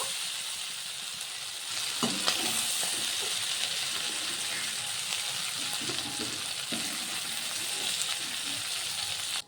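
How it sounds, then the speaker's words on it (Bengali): Shrimp frying lightly in hot oil, giving a steady, close, even sizzle that swells slightly after the start and holds, with no talking. "চিংড়ি মাছটিকে একটু ভেজে নেব। খুব বেশি ভাজবো না, হালকা করে ভেজে নেব।"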